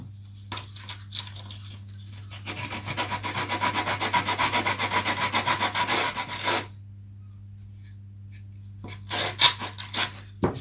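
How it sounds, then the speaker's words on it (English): Sandpaper rubs back and forth on a wing part of a model Fokker Triplane, a close, rhythmic run of quick rasping strokes in the middle, then a pause and a few more short scrubs near the end. "I sand first because it sticks out slightly, so you may as well sand it first"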